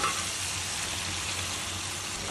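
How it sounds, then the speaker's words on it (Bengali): Beef with turmeric, chili and coriander powder frying in a pan makes a short, soft, continuous sizzle heard up close, with no talking. "আমি ভালো করে এই মাংসটা কষিয়ে নেব"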